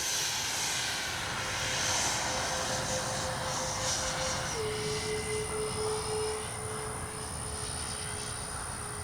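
An RC model warplane styled like a fighter or bomber flies overhead after takeoff with gear and flaps up, a steady engine drone with a whining tone that drops in pitch midway as it passes, moderately distant.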